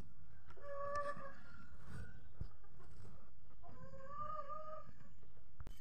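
A chicken wandering around a house during the Eid al-Adha holiday gives two bursts of clucking calls, near and fairly clear, separated by a short quieter pause with light background noise.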